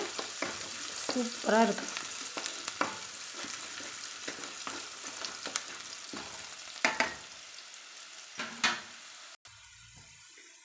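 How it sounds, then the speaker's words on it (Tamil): Onion and garlic sauté in a pan with quiet, intermittent sizzling and scattered stirring scrapes, fairly faint overall, with a brief spoken remark at the start. "வெங்காயம் பூண்டு நல்லா வணங்கிருச்சு."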